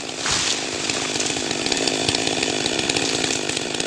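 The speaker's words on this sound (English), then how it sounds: "holding a working chainsaw. He cuts off the top of the large tree" A chainsaw roars continuously at full throttle as a worker in a crane basket cuts the top off a large tree, loud and close with a steady, gritty drone.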